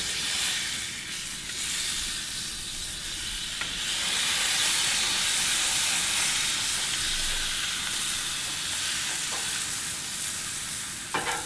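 A smash burger patty topped with onions, salt and pepper sizzles loudly on a backyard griddle, a continuous close frying hiss with a few scraping clicks from the spatula.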